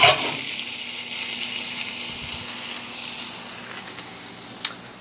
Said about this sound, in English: you can just hear them sizzle